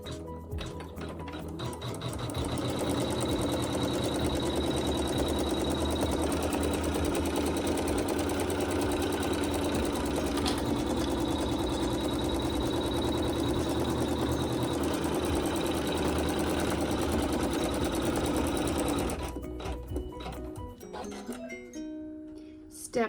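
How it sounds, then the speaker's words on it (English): Steady rapid whirring and clatter of a home embroidery machine sewing a placement stitch for a quilt block, running continuously for about twenty seconds before slowing to a few scattered clicks. "we're just going to sew a placement stitch"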